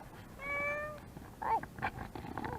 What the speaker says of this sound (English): trying to make a video with a cat meowing at me